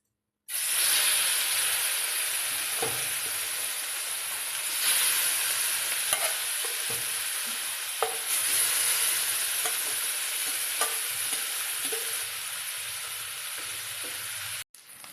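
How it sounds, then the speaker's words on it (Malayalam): Sardines fry in hot oil in a pan, a loud continuous close sizzle with bright hiss and scattered pops and crackles throughout, no voices. "ബാക്കി മത്തി കൂടി ഇട്ട് കൊടുക്കാൻ പോവുകയാണ്."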